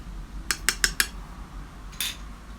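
Metal spoon clinking against a bowl while mixing milk powder and salt for chicken bread dough: four quick taps in a row, a pause, then one more clink, close and clear with no voices.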